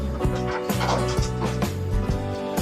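Heritage chickens kept as a breeding flock in a backyard pen, with several close hens clucking and cackling in a busy, overlapping chorus and repeated short squawks over steady background chatter from the flock.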